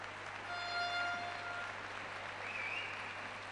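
A carnival crowd at a murga competition in Arrecife gives a faint, steady round of applause, heard from a distance, with a few whistles rising briefly above it.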